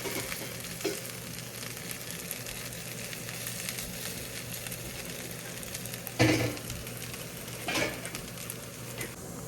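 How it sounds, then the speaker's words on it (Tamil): Potatoes roast in an oil-filled pan, giving a steady close sizzle and crackle with two brief louder bursts when the pieces are stirred or turned. "இதுவும் அதே மாதிரி எல்லாம் ரோஸ்ட் ஆகட்டும் எல்லா சைடும்."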